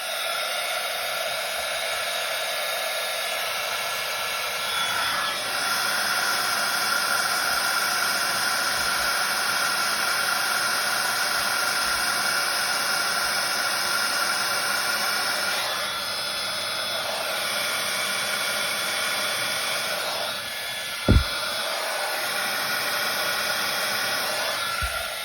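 A heat tool melting clear embossing powder on a stamped card, a steady blowing, fan-driven whoosh heard close and continuous, easing off briefly twice with a sharp click near the end, no voices.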